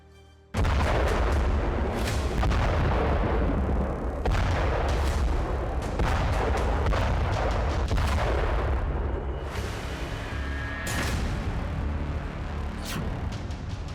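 Heavy explosions and gunfire in Gaza, a rapid sequence of loud booms and cracking shots rolling continuously with echoing rumble, no speech.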